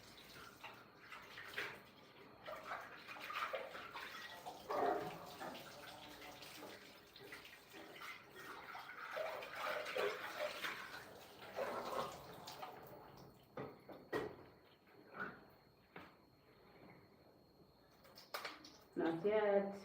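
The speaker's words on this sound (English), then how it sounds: "everything I'm done with, I rinse them out and I put them back" Tap water runs and splashes while dishes are rinsed out in a home kitchen during cooking, a fairly soft stream that comes and goes, with someone talking over it.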